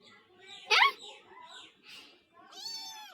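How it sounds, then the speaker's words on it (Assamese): A kitten gives one sharp, close meow, followed later by a softer drawn-out mew, with quiet background noise in between. "বৰ ধুনীয়া মেকুৰীজনী, মুখখন"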